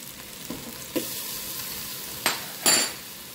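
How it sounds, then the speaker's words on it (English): Three garlic cloves, added after onions, sizzle in a pan inside a Ninja Speedi while shrimp drunken noodles are made, with a faint steady hiss broken by a few sharp scraping stirs near the end. "I'm going to go in with about 3 cloves of garlic."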